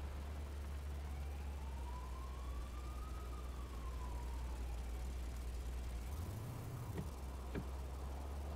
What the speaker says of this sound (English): Police got the sirens on again.